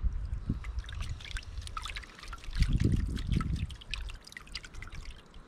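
Water sloshing and trickling over gold concentrate in a pan during rinsing, soft continuous splashing and dribbling with a swell in the middle, close and fairly quiet.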